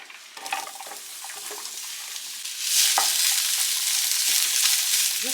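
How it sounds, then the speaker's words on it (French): Sliced leeks drop into hot cooking oil in a pan beside cooking capellini. A soft crackle with stirring scrapes swells into a steady, fuller sizzle halfway through. "Je viens ajouter un filet d'huile de cuisson. J'ajoute mes poireaux."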